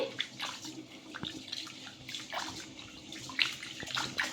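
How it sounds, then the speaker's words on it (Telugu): Ration rice being washed: water sloshing and splashing in a vessel with gritty swishing, steady handling noises over a few seconds, close by with no talking. "ఇప్పుడు ఈ బియ్యాన్ని బాగా కడిగేసుకోవాలి ఇలా నీళ్ళు అనేది వేసేసుకొని"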